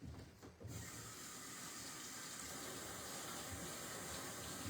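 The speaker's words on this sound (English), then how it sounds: "So now I'm going to wash my hands." Water runs steadily from a kitchen tap as hands are washed clean of sticky breadcrumbs, a loud, close, continuous hiss that starts abruptly and continues alone.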